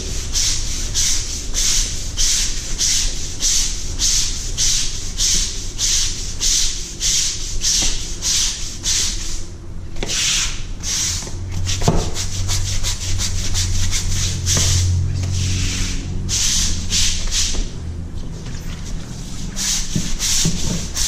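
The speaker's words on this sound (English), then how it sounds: "Gotta scrub really, really good." A concrete garage floor scrubbed hard to lift dirt, stains and rust, with brisk, rhythmic brush strokes rasping back and forth close by and loud, continuing steadily without pause.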